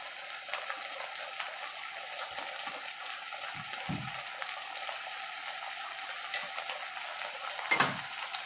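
Turmeric and Amul ghee go into a hot pan, giving a soft, steady sizzle with occasional stirring scrapes, close and quiet with no talk.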